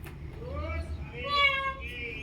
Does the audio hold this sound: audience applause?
no